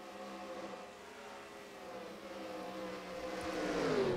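Race cars in the NASCAR Racing 2003 video game, a faint, distant pack of engine whines running single file and rising slowly in pitch as they draw nearer.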